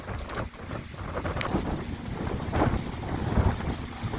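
Strong gusts from Tropical Storm Cristobal buffet the microphone on the Alabama Gulf coast at Dauphin Island, a loud, continuous roar that surges and eases in uneven pulses with no one speaking.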